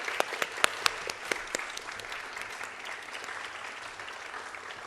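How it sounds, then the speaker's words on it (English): An audience claps at a Bharatanatyam arangetram in Dayton, New Jersey: a dense, steady round of applause with a few sharp claps standing out near the start, heard alone for about five seconds. "A big round of applause to Guru Srimati Madhavi Mehta."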